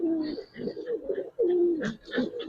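Pigeons in a loft of Giribaz and colored pigeons coo nearby in soft, throaty, repeated phrases, with a few brief higher chirps toward the end and no talk.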